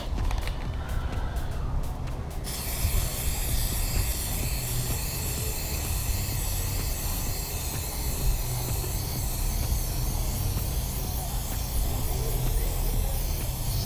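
Rust-Oleum FlexiDip spray coating is applied to a car emblem, giving a steady close aerosol hiss that continues unbroken through the whole stretch after a brief clicking start, with no talking.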